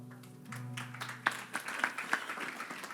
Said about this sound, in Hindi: किसके लिए तालियां बजिए?